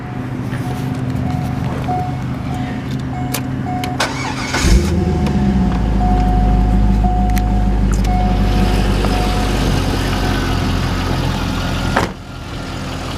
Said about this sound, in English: I'll go ahead and fire it up for you